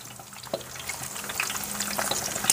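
Potatoes frying in rendered pork fat from lard in a pan, a steady soft sizzle with small crackles and pops, close and continuous with no talk.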